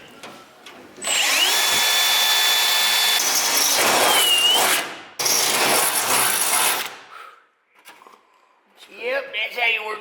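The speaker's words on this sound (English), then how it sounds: "that's how you work a drill" A power drill whines loudly at close range in two long bursts with a brief pause, then stops, followed by a few faint sounds and brief talk.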